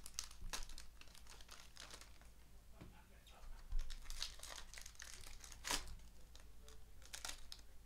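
Foil packs of 2017-18 Upper Deck SP Authentic NHL hockey cards crinkling and tearing close up, irregular sharp rustles and crackles at low volume with faint background murmur.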